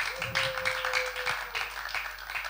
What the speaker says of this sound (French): On applaudit toute la grande famille.